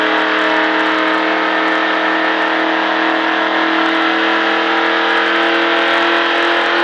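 A NASCAR stock car engine roars at sustained high revs under throttle, a loud, steady, droning wail held for the whole stretch without pause.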